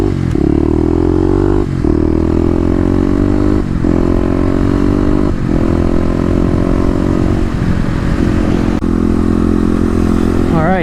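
Kawasaki KLX250 dual sport motorcycle ridden for wheelie practice, its engine droning loud and close with repeated rising revs through the gears and brief dips between, a faint clatter over bumps.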